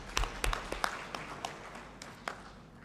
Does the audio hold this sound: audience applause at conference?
yes